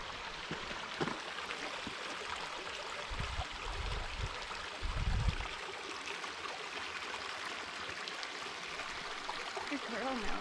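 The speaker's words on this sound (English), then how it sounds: "So we're at the first water spot of the creek" Horton Creek in Arizona flows along the trail in a soft, steady rush of water, faint and continuous, with a few brief low thumps partway through.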